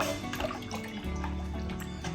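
Three cups of water are poured into a pot of Memoni-style dahi kadhi yogurt curry, giving a close, steady liquid splash and trickle for about two seconds with no talking.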